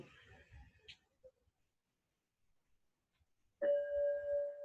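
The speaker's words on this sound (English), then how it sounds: "Every time I ring the bell, just let go and go deeper" A meditation bell struck once during a yoga session, a clear sustained ring that sets in after a near-silent pause and hangs on steadily.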